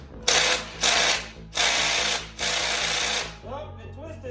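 A ratchet wrench works on an engine head bolt, giving four close, loud bursts of rapid clicking with short pauses between them, followed by a brief voice at the end.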